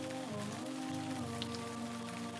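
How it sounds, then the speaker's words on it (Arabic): Rain dripping and pattering inside an old wooden hut with rotting timbers, a steady dense patter over a continuous low hum, with no voices. "المطر يأتي هنا بالداخل."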